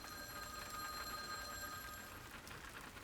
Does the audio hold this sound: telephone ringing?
yes